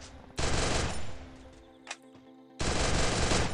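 Rapid automatic gunfire in the video game Free Fire, two loud sustained bursts separated by a short gap with faint game sounds between them.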